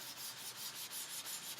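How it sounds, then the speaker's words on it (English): A dry cloth rubbing soft pastel chalk on paper, a close, steady rhythmic swishing in quick repeated strokes with no talking. "So I'm just going to take my dry cloth and I am just going to rub"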